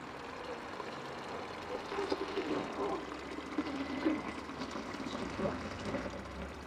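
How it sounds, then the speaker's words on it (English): Water is poured into a countertop ice maker, a faint splashing trickle rising and falling over several seconds in a quiet room. "So we'll pour some water in."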